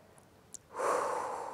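One long, breathy exhale comes as the abdominal muscles relax after a held breath, moderately close and soft. A brief click comes just before it, with no talking.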